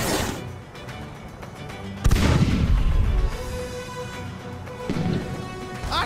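Ship cannons fire in the Blackwake naval game: a sudden heavy boom lands partway through with a rumbling tail, then a second, lighter blast follows, over a busy background of clatter and faint voices.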